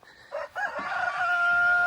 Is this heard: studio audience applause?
no